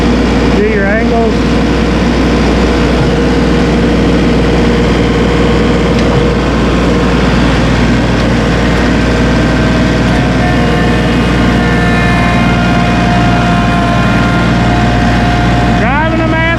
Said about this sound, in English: Driving a Massey Ferguson.